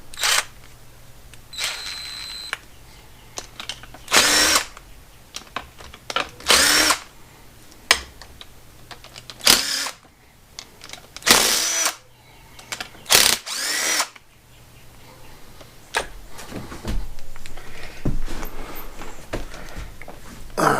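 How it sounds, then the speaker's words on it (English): Impact wrench on a Yamaha 6 hp F6 outboard water pump fires in several short, loud rattling bursts as four bolts are run up, separated by quieter handling sounds and small clicks. "Basically, I just took my impact, ran these 4 bolts up"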